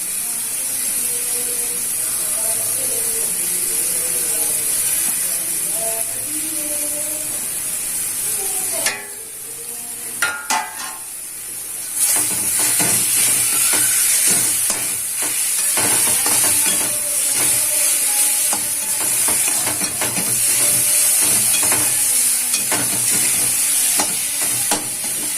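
Grated raw mango hits a hot pan in a Tamil mango rice preparation, giving a steady loud sizzle and hiss with scraping stirring sounds throughout, briefly dipping before the frying surges back.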